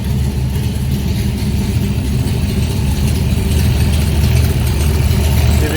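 A 1965 Shelby Cobra V8 idles after a cold start, a loud, close, steady low rumble with a lumpy, even throb that stays constant throughout without revving.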